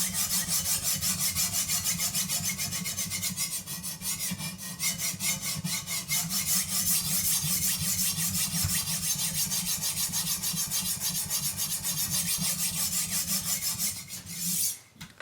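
Steady rhythmic rasping of a knife edge against a sharpening stone clamped in a Prof sharpener, strokes repeating evenly and close for about fifteen seconds before trailing off, with no talk.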